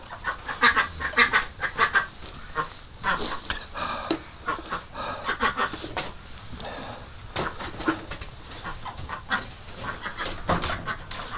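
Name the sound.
ducks quacking in a pen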